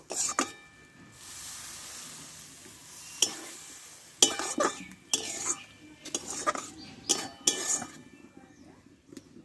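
A utensil stirs pumpkin pieces boiling in water in a pot, giving intermittent metallic scrapes and clinks against the pot over a soft simmer, fairly close.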